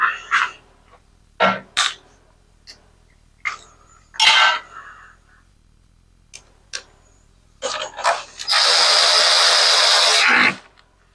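A battery-operated ratchet wrench tightens bolts while a starter rope is replaced, giving short mechanical whirs and clicks between tool handling noises, then one loud, sustained, close buzzing run of about two seconds.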